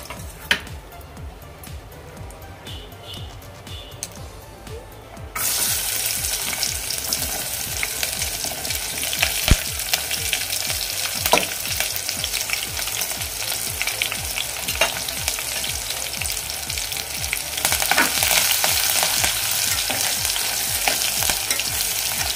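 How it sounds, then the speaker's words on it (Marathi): Sliced onion and curry leaves hit hot oil in a pan after fried fish for bombil rice is lifted out, and a loud, steady sizzle swells after a quieter start with occasional stirring clicks, close and without talk. "आता याच तेलामध्ये आपण कांदा आणि कढीपत्ता घालून घेणार आहोत।"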